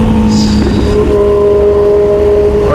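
A multi-axle bus engine roars loud and close, a steady droning growl with a rising tonal whine, continuous throughout with no talk.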